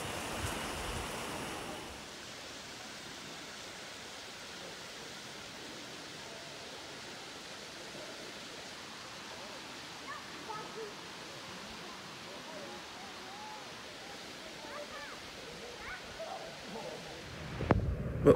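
A small waterfall running low in dry conditions near Ouray, Colorado, gives a steady, soft broadband rush of falling water with no break, heard from a moderate distance, with a few faint clicks and a louder bump at the end.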